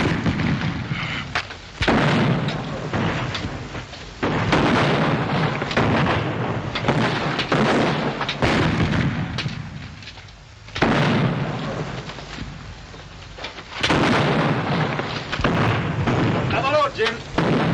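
Battle gunfire from a pirate-era film sounds in repeated loud booming volleys and bursts across the clip, mixed with shouting voices and commotion.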